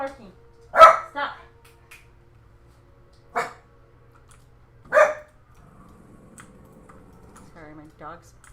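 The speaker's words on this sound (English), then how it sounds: "Hey, it's okay. It's okay. Stop barking. Stop." A house dog barks in a few sharp, separated bursts close by, with a person speaking softly in between and faint typing in the background.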